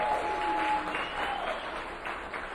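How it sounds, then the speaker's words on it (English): Audience applause for the winner of a street pitch competition, steady dense clapping that holds for the whole stretch, with a faint whistle or tone drifting over it. "give them a round of applause"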